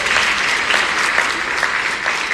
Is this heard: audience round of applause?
yes